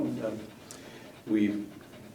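A six-year-old male Shih Tzu pants in short, close bursts, with a louder run of breathing toward the end, under light speech.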